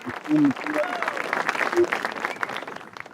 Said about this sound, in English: Reaction in the studio, from applause,